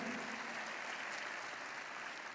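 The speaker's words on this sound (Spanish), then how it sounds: "Vamos, démosle un fuerte aplauso al Señor" A church congregation gives a sustained round of applause for pastor Claudia, a dense, even wash of clapping throughout, fairly soft and slightly distant, with no talking.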